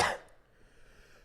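A single sharp cough bursts out at the start, close and fairly loud, then trails off into quiet room noise.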